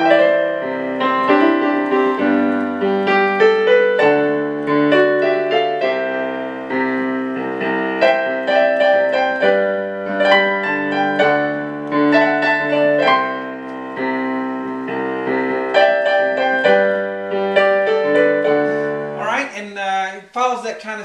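A piano plays a solo from a live acoustic song, with loud, clear chords and melodic runs in a steady country rhythm that continue for about twenty seconds before ending abruptly.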